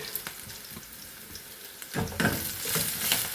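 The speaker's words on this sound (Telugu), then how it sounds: "జస్ట్ ఇందులోకి ఉల్లిపాయలు కొన్ని వేసుకొని టమాటాలు వేసుకుంటే సరిపోతుందండి." Onions and tomatoes hitting a hot steel pan and frying, a loud burst of sizzling that starts partway through and keeps crackling steadily, close by, after a quieter stretch of soft kitchen noise.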